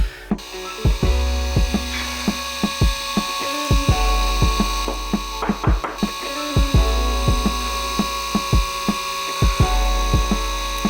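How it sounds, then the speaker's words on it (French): A homemade drill press, its motor run from a 12-volt transformer, hums steadily while boring into wood, with repeated short knocks and clicks as the bit is fed in and lifted. "il perce vraiment très bien le bois, c'est pas un problème"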